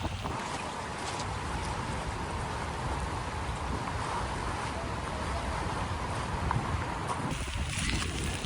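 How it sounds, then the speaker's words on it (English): Rain and gusting wind on Iceland's south coast make a steady, loud, close broadband roar that holds unbroken throughout, with no talking. "Y'all, it is raining, windy, but we doing it."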